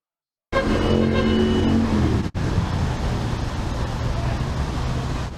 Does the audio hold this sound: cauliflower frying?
no